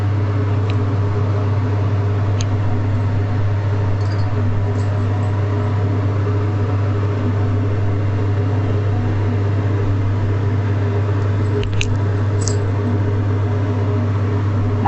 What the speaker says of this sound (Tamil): பொன்னிறமாக வர வரைக்கும் நம்ம ஃப்ரை பண்ணி எடுக்கணும்